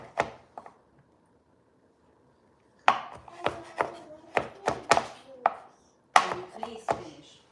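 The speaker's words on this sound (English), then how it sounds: "Just chopping it down, tiny pieces." A knife chops food into tiny pieces on a board for an omelette, sharp close-up knocks that come in a few isolated strikes, then a pause, then quick irregular bursts of several chops each.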